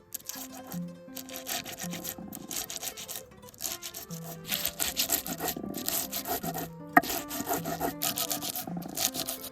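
Hemp seeds ground by hand on a stone, a steady rhythmic rubbing and scraping in repeated strokes, close and moderately quiet, with soft background music and no talk.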